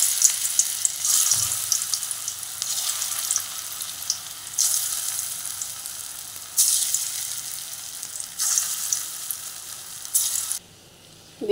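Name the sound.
banana flower pakoras frying in hot oil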